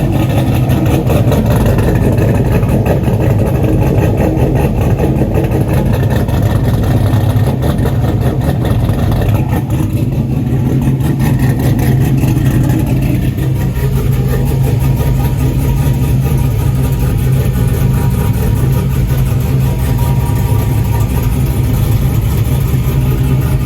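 A truck engine with a custom equal-length exhaust runs continuously and loudly close by, a steady deep rumble with no voices over it.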